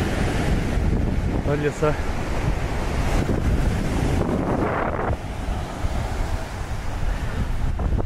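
Pacific Ocean surf rolling onto the shore with strong wind buffeting the microphone, a loud continuous roar throughout, while someone speaks briefly.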